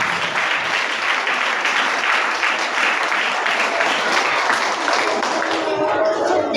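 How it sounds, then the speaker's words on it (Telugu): A church congregation at a Sunday service claps loudly and continuously, a dense, close wash of many hands that holds steady throughout. "కొట్టండి చప్పట్లు గట్టిగా."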